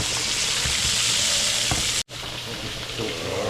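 Scallops sear in a hot frying pan, giving a loud, steady broadband sizzle that runs almost unbroken, with a brief cut near the middle before it resumes.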